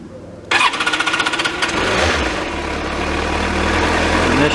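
A carbureted Yamaha YZF R1 4XV sport motorcycle, about 20 years old and already warm, cranks briefly and fires into a loud, close rumble, then settles into a steady, even idle with no talking.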